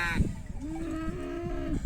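A cow lets out a long, low moo nearby, with faint background noise around it.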